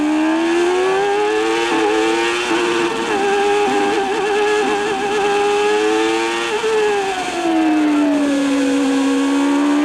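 A 1994 Formula 1 car driven by Michael Schumacher at the Spanish Grand Prix screams at high pitch, its engine note stepping down through a series of gear changes, loud and continuous.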